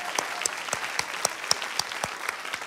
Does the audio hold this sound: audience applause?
yes